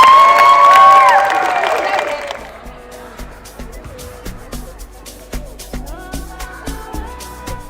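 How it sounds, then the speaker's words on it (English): Girls at an all-girls basketball camp cheer and shout loudly at first. The noise fades after about two seconds into scattered claps and thuds, with bright squeaky tones scattered throughout. "give a big round of applause to Coach Nygaard."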